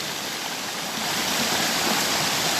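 Water falls steadily from a waterfall into a small stream below, a broad hissing rush heard up close that swells slightly louder partway through, alone without talk.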